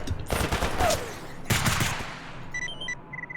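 Gunfire in S.T.A.L.K.E.R. Anomaly: two quick bursts of loud shots, the first a rapid rattling volley, the second a shorter sharp burst, followed by faint high electronic beeps.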